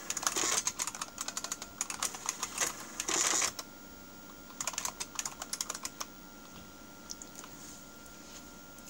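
Rapid, uneven computer-keyboard typing clatters in bursts with short pauses, close and fairly quiet, during a demonstration of an IBM compact printer.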